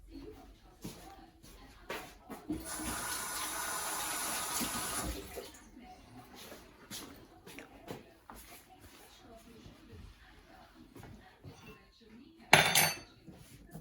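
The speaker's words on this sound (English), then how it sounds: "Let me go rinse off my hands." Tap water runs into a sink for about two seconds, loud and steady, as hands are rinsed, followed by a short second burst near the end, with scattered kitchen clatter in between.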